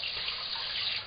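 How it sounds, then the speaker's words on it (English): Two cups of cool water poured over rinsed rice, a steady close splashing, trickling stream running for about a second without pause and with no voices. "take 2 cups of cool water"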